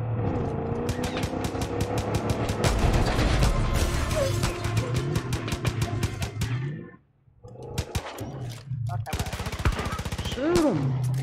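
Rapid automatic gunfire in the Far Cry 5 video game, loud bursts of shots rattling for several seconds, a brief pause, then more bursts, with engine noise beneath.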